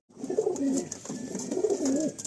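Madrasi pigeons cooing up close, two rolling throaty coos in steady succession, clear and fairly loud with no talk over them.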